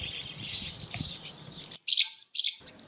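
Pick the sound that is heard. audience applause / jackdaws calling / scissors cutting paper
jackdaws calling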